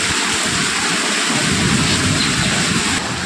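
Heavy evening rain in a Kerala village, a dense, loud, continuous hiss with low rumbling underneath, steady for the whole stretch.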